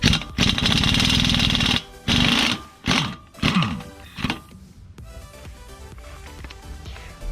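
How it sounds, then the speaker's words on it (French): Loud rattling hammering bursts from an impact wrench with a regular socket loosening a bolt on an Alfa Romeo 159 front wheel bearing job, several short bursts in quick succession, then quieter background noise. "la clé à choc. J'ai sorti mon jouet que j'ai acheté pour les situations comme ça."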